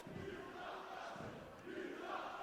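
Wrestling crowd in Liverpool at a WCPW show, a distant, steady roar of massed voices with swelling shouts and jeers rising and falling, no clear speech.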